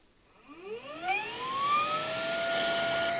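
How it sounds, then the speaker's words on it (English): A homemade tooth-jet vacuum pump spins up with a rising whine that climbs and settles into a steady, loud, close tone, running alone. "And the other one is the vacuum."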